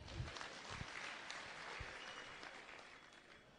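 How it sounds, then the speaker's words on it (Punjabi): An audience at a Punjabi stage gathering claps together for a few seconds, a dense, fairly distant patter of applause with no voices over it. "ਜਰਾ ਤਾਲੀਆਂ ਵਜਾ ਦਿਓ।"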